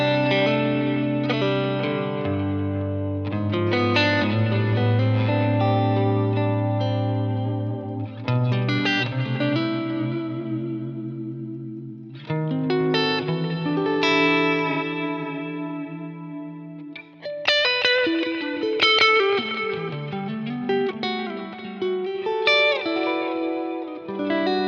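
Electric guitar runs through a Line 6 effects preset with distortion, playing sustained chords and melodic phrases that ring out with heavy reverb and echo, loud and continuous without any talking.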